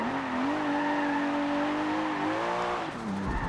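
Nissan Fairlady Z in Forza, its engine holding a steady strained note while the tires squeal in a long continuous skid, then the pitch dips and drops away near the end.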